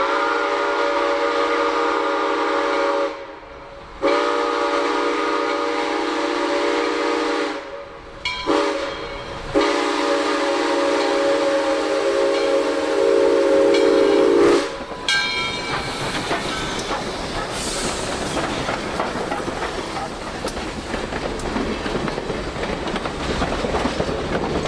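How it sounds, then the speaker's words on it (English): A steam train rounds a curve near a road crossing, its whistle sounding in long sustained blasts before the loud rumble and clatter of the passing cars and locomotive take over, close and continuous. "we watch the train round a curve crossing over Fisher Road"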